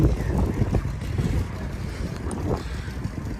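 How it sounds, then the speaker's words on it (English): Wind buffets the microphone in a steady, rumbling roar that continues without a break throughout, on a Harley-Davidson Street Glide motorcycle ride. "A little windy."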